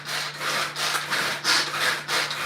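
Manual food chopper with a blade cutting onion pieces, giving loud rhythmic scraping chops in steady bursts of about two per second, close up with no talk.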